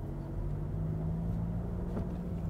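A car accelerates in second gear during a driving lesson, a steady close engine rumble that rises slightly in pitch, with no one speaking over it.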